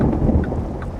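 Thunder rumbles over steady heavy rain during a thunderstorm in American Truck Simulator, with loud low booms and a continuous wash of rainfall on the truck throughout.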